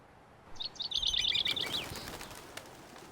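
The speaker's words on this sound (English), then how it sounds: "It seems these birds aren't affected by the cold." Chirping birds in the video game Love and Deepspace, a quick run of bright, high chirps in the middle of the clip over a low wind-like background, with no one talking.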